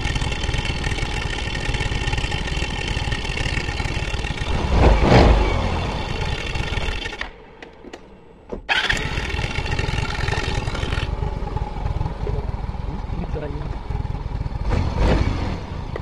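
A Yamaha Mio 125 FI scooter engine idles steadily during an idle adjustment, a continuous mid-pitched putter that dips briefly partway through before settling back to an even idle.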